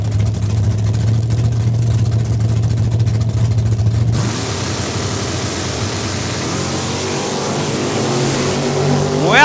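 A Hemi Dart and a 1966 Chevelle launch down the Saskatchewan International Raceway drag strip, a loud, close engine roar that breaks into rising, whining acceleration sweeps as the cars pull away.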